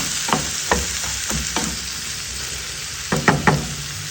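Bitter gourd sizzles as it is stir-fried in a pan, with a steady frying hiss broken by several sharp knocks and scrapes of a utensil being stirred against the pan, close and without talk.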